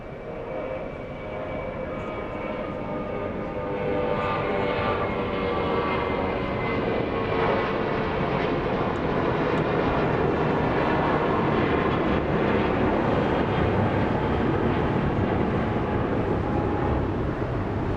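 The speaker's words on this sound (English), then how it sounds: "United Airlines 319. Flying to Puerto Vallarta. That is an Airbus A320. Here it comes." A United Airlines Airbus A320 jet airliner flies past at Los Angeles International Airport, its engine roar swelling from moderate to loud and holding as a steady broadband rumble with a faint whine, no talking.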